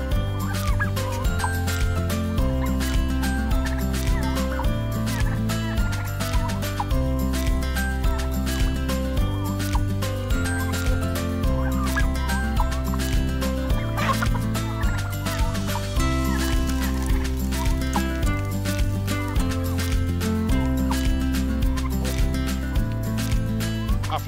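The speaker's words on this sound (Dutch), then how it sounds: "Dit is een bronzen kalkoen en dit is een langzaam groeiende ras." Bronze turkeys, a slow-growing breed, gobbling and clucking inside a daylit barn, the birdcalls repeating steadily and blending with a constant layered hum that fills the whole stretch.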